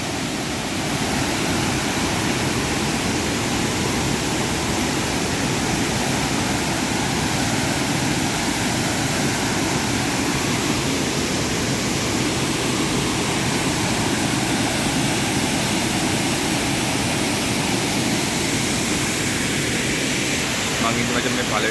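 A waterfall at the first falls near Lankagama roars close by, a steady, dense rush of water pouring without pause for the whole stretch.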